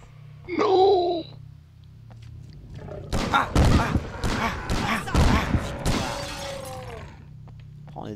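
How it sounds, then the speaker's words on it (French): Gunfire in the survival horror game Obscure: a burst of sharp, loud shots and crashing impacts packed into a few seconds after an earlier wailing cry, with voices talking over it. "On a juste tiré partout."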